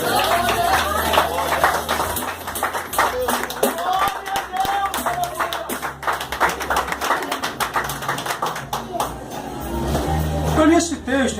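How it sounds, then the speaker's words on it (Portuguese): Church congregation clapping in praise during a service, a rhythmic run of hand claps with tones sustained underneath, steady and fairly close, easing off toward the end before a brief louder swell. "louvando e exaltando ao Senhor com palmas"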